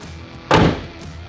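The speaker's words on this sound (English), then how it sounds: "bonnet's closed" The bonnet of a VY ute with a turbo LS1 slams shut in one sharp, close thud that quickly fades, over low background noise.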